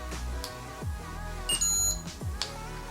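A Cube Mini GPS tracker button gives a short electronic beep, heard once or twice in a quiet room with no talking.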